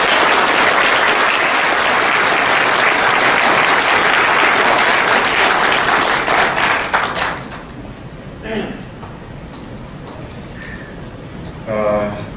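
A large crowd applauds loudly and steadily for several seconds before the clapping fades, leaving a voice speaking amid scattered room noise.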